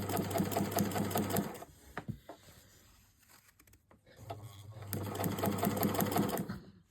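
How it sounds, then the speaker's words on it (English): A sewing machine stitches fabric for a child's headband in two close bursts of rapid, rhythmic needle chatter, separated by a quiet pause with faint handling noises. "I'm going to run it a little bit, then just introduce it, do a few stitches, back stitch, and then carry on sewing."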